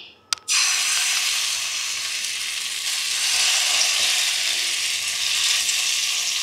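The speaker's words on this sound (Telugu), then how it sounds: "ఇప్పుడు దీంట్లో మనం ముందుగానే కలిపి పెట్టుకున్న బ్రెడ్ ఉతప్పలా వేసుకుందాం." Bread uttapam batter hits a hot oiled pan after a sharp clack, then sizzles loudly and steadily without a break, close up and with nobody talking.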